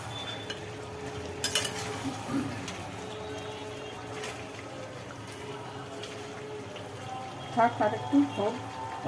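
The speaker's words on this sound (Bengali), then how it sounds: "এবার আলুতে আর মাংসতে কষানো হবে" Fried potatoes and meat are stirred together in a pot for a Bengali kosha: a low, bubbling sizzle with occasional scraping and clinking strokes, and a cluster of louder scrapes near the end.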